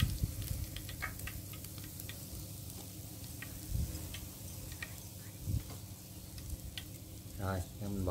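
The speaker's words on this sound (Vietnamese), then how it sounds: "Bỏ nó vô mình chiên." Frog pieces fry in a pan of hot oil with a faint, steady sizzle dotted with small ticks and pops, and a voice briefly speaks near the end.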